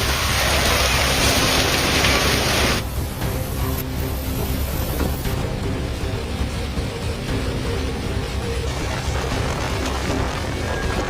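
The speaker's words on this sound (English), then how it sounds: "Hailstones rained down on roofs, windows and vehicles at a deafening pace." Hailstones pound roofs, windows and vehicles during a violent storm, a dense, loud, continuous roar of impacts with no letup, heavier and harsher in the opening seconds before settling into a steady torrent.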